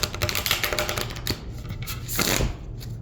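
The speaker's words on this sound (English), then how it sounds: "Alright, one more shuffle." Tarot cards are shuffled by hand in quick riffling bursts, crisp papery flutters coming close and fairly loud, pausing briefly before another rapid shuffle.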